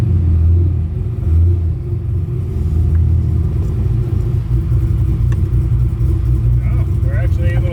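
Chevrolet Corvette C5 drift car backing up slowly, its engine giving a low steady idle rumble with slight throttle variation, close and continuous, with faint other noises near the end.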